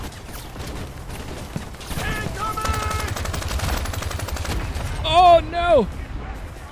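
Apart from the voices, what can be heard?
incoming mortar fire in the video game Crime Boss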